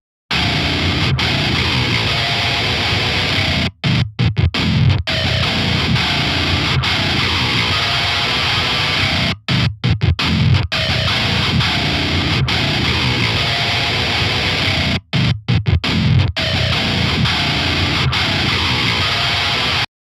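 A heavily distorted metal guitar tone plays through an amp with no EQ boost pedal, loud, thick and saturated, in sustained chugging passages broken by a few brief silent gaps.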